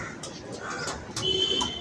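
Newly housed pigeons at a wheat feeding spot give soft calls over a noisy, rustling background, with a brief clear tone near the end; no talk.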